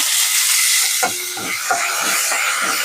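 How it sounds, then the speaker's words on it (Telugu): Curry leaves hitting hot oil with mustard seeds and lentils in a pan, a loud continuous hiss and sizzle with sharp spattering pops as the leaves go in, no talking. "ఆవాలన్నీ ఏగిపోయాయండి ఆవాలు పప్పులు ఇప్పుడు కరేపాకు వేసుకునేద్దాము"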